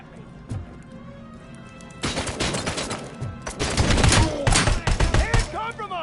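Gunfire crackles in the video game RoboCop: Rogue City. It starts as scattered single shots, then breaks into loud, dense volleys and rapid bursts with impacts, and gets heavier toward the end.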